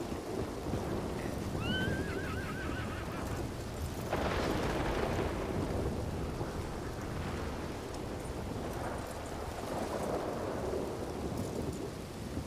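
Heavy rain pours down in a WildRP video game scene, with deep rolling thunder swelling loudly midway through a steady wash of downpour and no voices.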